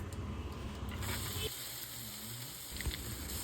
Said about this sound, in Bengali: এগুলোকে খুব ভালো করে ভেজে নেব।